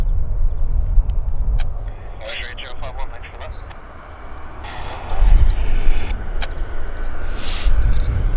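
A WestJet airliner in new colors rumbles at Vancouver Airport, a broad engine roar that swells and fades, with people talking over it.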